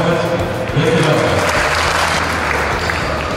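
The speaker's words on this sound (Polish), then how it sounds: "Damian Kowalski, wielkie brawa." A crowd claps loudly and continuously at the opening ceremony of the Polish Badminton Championships in Pszczyna. The dense, close applause fills the whole stretch, with a voice heard over it.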